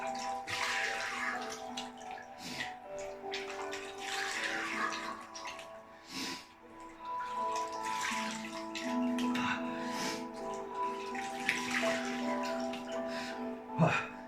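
Cold water is splashed onto a face from a basin, close by, with rhythmic splashes over a steady trickle.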